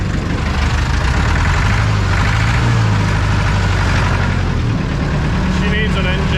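An old, worn farm truck engine idles loud and close with a steady low rumble and a slight pitch drift, while a person talks over it.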